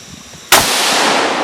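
A sharp, loud gunshot on a competitive shooting stage cracks after a brief quiet lead-in, followed by a sustained roar of noise and the hint of a second shot right at the end.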